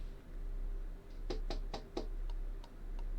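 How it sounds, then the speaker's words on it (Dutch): Knocking on a door in the video game Syberia: The World Before: four sharp, evenly spaced raps close up, followed by a few fainter taps over low background hum. "There's no point drumming on the blasted door."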